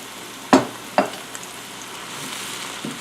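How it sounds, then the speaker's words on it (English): Mushrooms for risotto drop into a hot pan, with two sharp sizzling bursts close by as they land, then a steady low frying hiss. "So we're going to go ahead and add the mushrooms."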